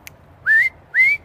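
Two rising whistles from a person calling a dog outdoors, each about a quarter second long and evenly spaced, clear and fairly close over faint traffic rumble.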